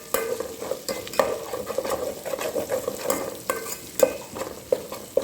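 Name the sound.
ginger garlic paste frying in pan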